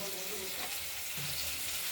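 Potatoes frying in a pan give a steady, soft sizzle that runs without a break, with faint low murmurs under the hiss and no clear talk.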